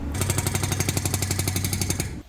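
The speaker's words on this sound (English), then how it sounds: "we had to rent one of these excavators with a jackhammer attached" An excavator-mounted hydraulic breaker hammers a concrete foundation wall in a rapid, steady stream of loud, close blows, then stops abruptly.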